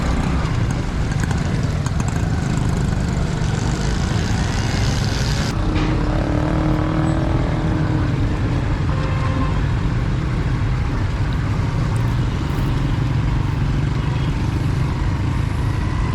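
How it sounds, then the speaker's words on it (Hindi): A motorcycle bounces and jolts over a rough, stony road in Orangi Town, Karachi, its engine drone and rattling noise loud and continuous throughout, with a steady rumble of wind and road noise. "देखें किस तरह मोटरसाइकिल उछल कूद कर रही है।"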